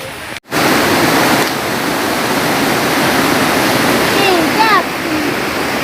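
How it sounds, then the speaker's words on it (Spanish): The Siriguí river flows in a steady, loud rush of water outdoors, broadband and continuous, with faint chirps and a brief dropout near the start. "estamos aquí en el río Siriguí"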